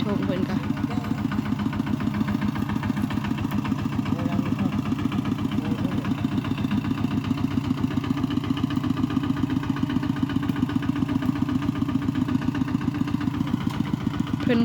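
A tractor engine chugs steadily at idle, a continuous rhythmic diesel clatter that stays close and even throughout, with voices faintly under it.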